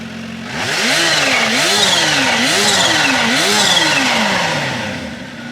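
A supercharged Kawasaki Ninja production superbike engine fires up and revs repeatedly, rising and falling in pitch with a loud, rough roar close by.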